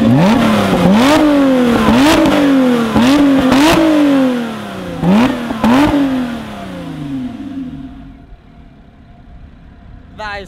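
A Lotus race car engine revs hard and close, climbing through repeated sharp rising pitches with quick upshifts, then drops away and fades toward a low idle as the car pulls off.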